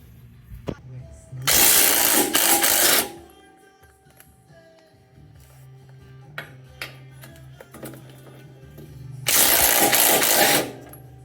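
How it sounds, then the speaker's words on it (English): Strut bolts being removed on a Ford F150 during a lift kit install: two loud, sustained bursts of an impact wrench a few seconds long, separated by quieter metallic clinks and handling noise, close by. "We're gonna have to take these bolts off from the bottom off, and then we'll have to loosen up the bolts on top"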